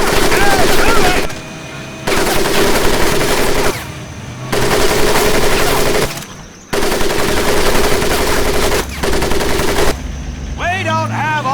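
Machine gun fire rattles in long sustained bursts over a mud pit in the Medal of Honor Pacific Assault video game, loud and close, broken by short pauses between volleys.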